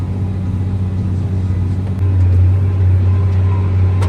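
A New Holland T8.410 tractor rated around 340 horsepower labors pulling a Lemken Karat 10 cultivator through heavy dry soil, its engine a loud, steady low drone that deepens and strengthens midway as the load increases.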